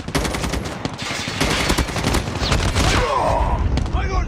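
Rapid bursts of automatic gunfire in the mobile shooter Call of Duty Mobile during a multiplayer match, loud rattling volleys that continue with little pause, with a voice speaking briefly over the shooting.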